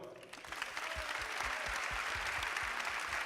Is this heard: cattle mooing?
no